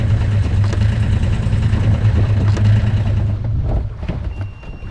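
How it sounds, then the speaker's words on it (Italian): A sailboat's auxiliary engine runs at sea in choppy water, giving a close, steady low-pitched drone with a throbbing hum that eases slightly toward the end. "Poi con l'onda il motore si sente ancora di più"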